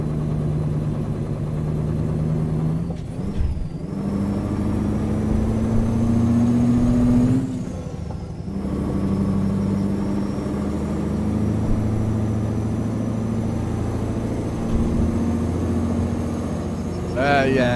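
A modded truck engine idles steadily in Euro Truck Simulator, a continuous mid-low rumble with slight pitch shifts running throughout, with background talk faintly over it.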